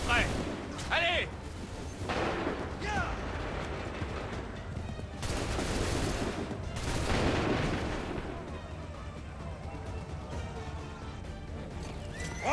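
Gunfire volleys crack out in an Assassin's Creed 3 battle, loud bursts of musket fire and heavy booms repeating over several seconds amid shouted commands and battle noise.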